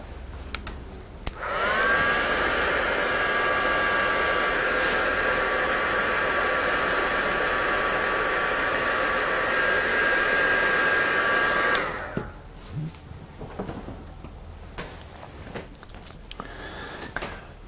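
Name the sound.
drying a mixed media craft tag with a heat dryer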